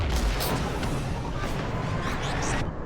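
Gunfire and artillery in the Mass Effect video game: a loud, continuous barrage of booming shots and rumbling blasts that fills the whole stretch before cutting off near the end.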